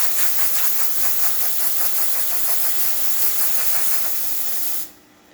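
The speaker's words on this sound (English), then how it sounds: "Now we're going to test the steam." A loud, steady hiss from the steam wand of a Rocket Appartamento espresso machine, with a faint pulsing texture, running for several seconds before cutting off abruptly.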